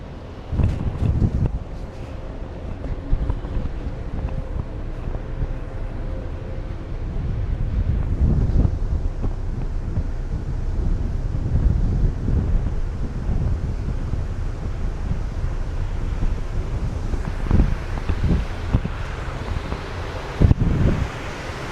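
Strong wind roars steadily across the microphone on the deck of the cruise ship Carnival Horizon, with low rumbling gusts, and faint sea noise sits underneath throughout.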